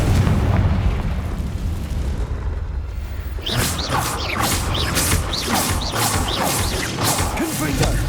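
Confringo blasting spells going off in the Hogwarts Legacy video game: a rumbling low-end wash gives way at about three and a half seconds to a run of sharp, loud bursts and crashing debris, repeated rapidly in close succession.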